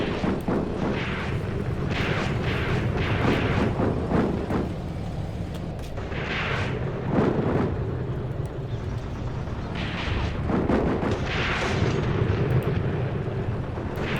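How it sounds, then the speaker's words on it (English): Repeated booming blasts of American half-track mobile artillery in a WW2 video game battle, heavy explosions striking a German tank, several big hits spaced irregularly over a constant low rumble. "It's a direct hit right on that tank."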